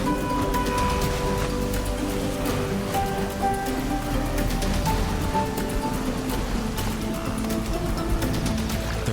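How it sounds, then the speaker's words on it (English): A wildebeest herd crosses a river in the Maasai Mara, a dense wash of splashing water and churning commotion at a distance, continuous and fairly faint. "Within seconds, hundreds of animals begin to snake their way across the river."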